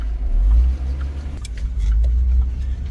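A junk Hummer in rough shape, with warning lights and ECU faults, runs with a loud, deep, close engine rumble that wavers slightly in level throughout.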